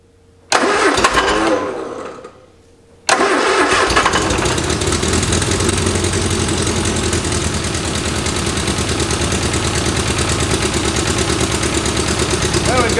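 After sitting for 40 years, a 1973 MG Midget engine cranks briefly, catches with a burst, dips, then fires again and settles into a loud, steady idle. Leaking gasoline is mentioned as a fault.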